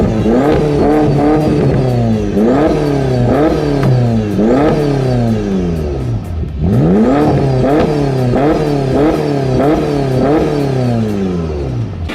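A BMW's loud exhaust revs repeatedly, the engine climbing and dropping in pitch over and over, close by and unbroken, at a car meet.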